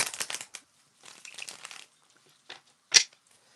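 Short bursts of papery riffling and crisp flicks, like a deck of cards being shuffled, close up and quiet, with pauses between bursts.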